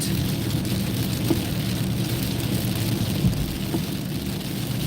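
Heavy rain pelts a car during a night drive, a steady dense roar of drops under the low rumble of the moving vehicle, constant and close throughout.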